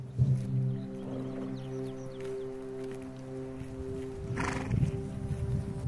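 Hucul horses, a hardy Eastern Carpathian breed, give a long whinnying neigh and a second call later, with hooves clip-clopping on the ground, fairly near and moderately loud with no speech.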